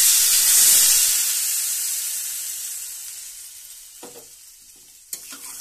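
Water poured onto fried potatoes and cauliflower in a hot pan gives a loud hissing burst of sizzle and steam that slowly fades, followed by a few stirring clatters near the end.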